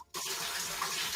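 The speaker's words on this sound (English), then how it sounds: "It sounds like you're running water in the background." A tap is turned on in the background and water runs from it in a strong, steady rush that starts abruptly after a brief silence, with no talking.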